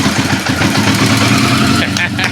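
A 1982 Yamaha 650 Seca motorcycle engine, unused for almost five years, cranking and catching into a loud uneven idle, with excited voices over it.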